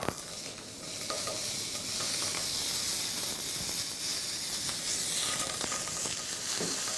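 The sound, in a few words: foie gras searing and sizzling in a pan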